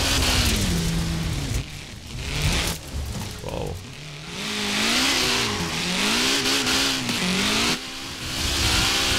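Engine of a drift-tuned car in Forza Horizon 4 revs loudly and continuously, its pitch climbing and falling through gear changes as it drifts, with brief dips and tire noise, close and dominant throughout.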